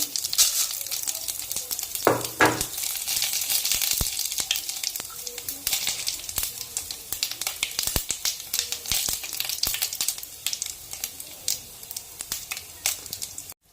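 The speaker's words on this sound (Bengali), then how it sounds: "কড়াইতে তেল দিয়ে দিচ্ছি পরিমাণ মতন। তেজপাতা, জিরা, শুকনো লঙ্কা, পাঁচফোড়ন দিয়ে দিচ্ছি।" Bay leaf, cumin, dried chili and panch phoron fry in hot oil in a kadai, a steady close sizzle broken by sharp spatters and occasional stirring clatter, with no one speaking.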